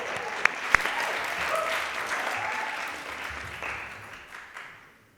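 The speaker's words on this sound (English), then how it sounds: "So give a round of applause to..." Audience applause at a student election hustings event, a couple of sharp claps standing out before steady clapping that fades away toward the end.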